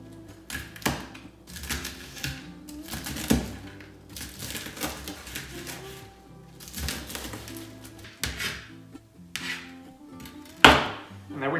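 Cooked bacon being cut into pieces with a knife in a home kitchen, heard as irregular close taps and knocks of the blade on a cutting board with light clatter, no talking.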